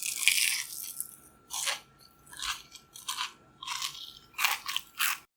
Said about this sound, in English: Here's a quick crunch test.